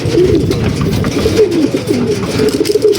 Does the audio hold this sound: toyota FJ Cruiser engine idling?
no